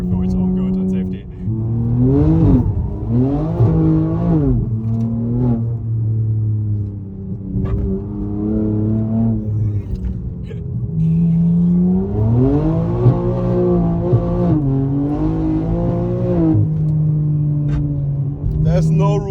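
A BMW M3 engine revs hard and rises and falls in pitch as the car drifts along narrow Scottish Highland roads. The sound is loud and close, with repeated surging climbs and occasional tire noise.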